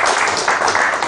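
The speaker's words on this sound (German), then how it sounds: "Die einen klatschen immer, die sitzen da und wenn es kritisch wird, wird hier geklatscht." A studio audience at a German television discussion about basic income breaks into loud, dense applause that fills the whole short moment with steady clapping.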